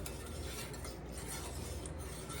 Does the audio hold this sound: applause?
no